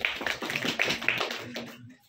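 A classroom of children claps their hands in a short, lively burst that quickly fades out after about two seconds.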